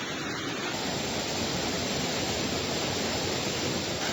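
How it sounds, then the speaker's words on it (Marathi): The Ghonsari waterfall in the Kankavali forest of the Konkan sends up a loud, continuous broadband rush of falling water that stays steady throughout, with no voices. "अगदी जंगलमय भागामध्ये असलेला हा घोणसरी धबधबा पर्यटकांच्या प्रतीक्षेत आहे"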